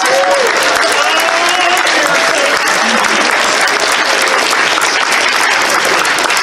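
Loud, dense round of applause from an audience at a charity event, continuous clapping and crowd noise at full volume from start to finish.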